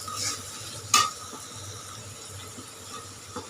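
Fish curry with spices being stirred in a pan, soft scraping over a low sizzle with one sharp clink of the utensil against the pan near the start, close and without talk.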